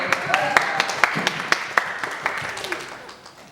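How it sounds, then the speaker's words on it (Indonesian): A small group at a Q&A session claps in a rhythmic, fairly close burst of distinct handclaps, roughly evenly spaced, trailing off by the end with light murmuring underneath. "Tepuk tangan dulu dong buat kalian."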